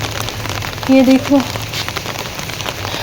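Rain falls steadily on outdoor surfaces near potted plants, a constant soft patter and hiss, while a person speaks briefly over it.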